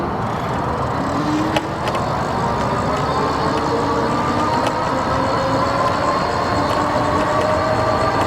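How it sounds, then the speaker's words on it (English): Lectric XP 3.0 Class 2 electric bike accelerating on throttle alone with a 195-pound rider, a steady rising motor whine over constant wind and road rumble, close and continuous with no talking. "if you're curious what the acceleration on this bike is with throttle only, it's not too bad"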